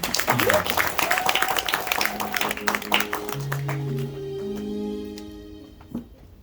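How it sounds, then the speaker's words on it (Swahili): Applause from a congregation in a Catholic church during Mass for a parish community's patron saint feast, dense clapping fading out as sustained organ or keyboard chords take over. "Kwanza tumshukuru Mungu kwa makofi mengi"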